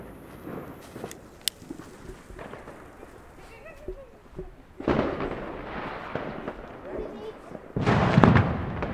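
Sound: Tomaszek Roman candle firework, 100 shots, firing

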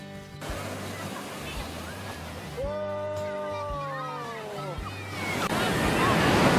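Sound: large ocean waves at Jetis beach, Purworejo

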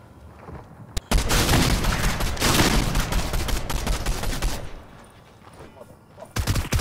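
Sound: goo gun firing in the video game Fortnite

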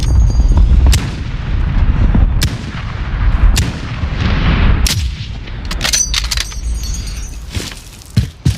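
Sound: airstrike explosions in a video game

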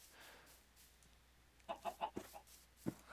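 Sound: chickens clucking in Minecraft video game

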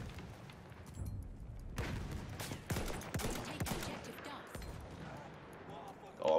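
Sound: sniper shooting at player in video game Battlefield 1

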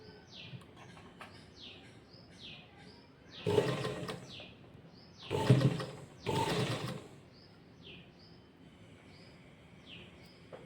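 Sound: sewing machine stitching loops on a sleeve

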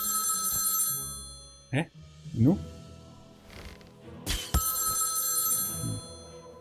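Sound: telephone ringing in the video game South Park: The Stick of Truth

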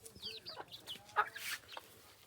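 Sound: chickens clucking while being fed

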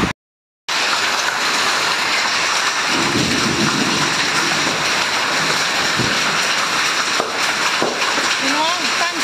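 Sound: hailstorm with heavy rain

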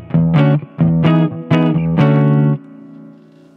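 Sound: electric guitar through Harley Benton HB-20R amplifier, reverb lowered

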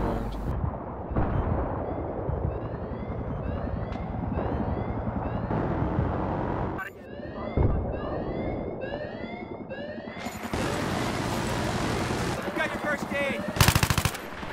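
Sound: gunfire in video game Battlefield 3

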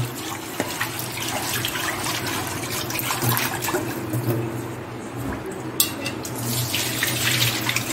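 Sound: stainless steel vessel being rinsed with tap water

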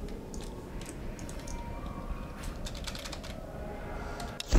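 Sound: pressing buttons on a computer keyboard

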